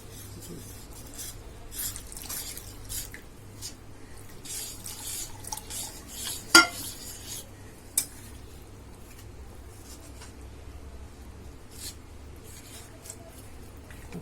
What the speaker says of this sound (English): Now I'm mixing the corn flour. I just put a little water.